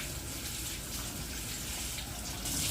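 Tap water running steadily over a plate being rinsed in a home kitchen, a constant, close hiss and splash that swells slightly louder at the end.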